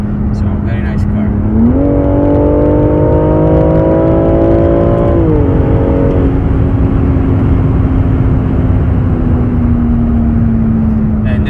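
BMW X4 M40i SUV with the B58 inline-six engine accelerating, a loud steady engine drone that climbs in pitch, holds, then drops and settles into a smooth cruising hum over constant road noise.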